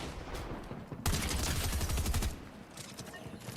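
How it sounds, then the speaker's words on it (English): Dense bursts of rapid gunfire and explosions from a Fortnite match in a collegiate esports tournament, loud and crackling through the middle, then thinning out. "People really just going towards the gunfire at this point."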